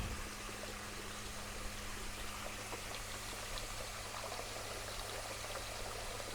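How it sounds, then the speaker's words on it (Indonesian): Water flowing steadily through the drainage channel of a tilapia fish pond with a running-water system, a continuous close rushing and trickling wash with no talk. "kalau teman-teman lihat ini adalah saluran pembuangan air ya"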